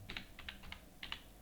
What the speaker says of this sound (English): Type the email address